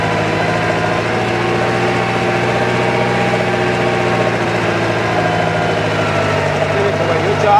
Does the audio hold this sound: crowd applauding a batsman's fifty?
no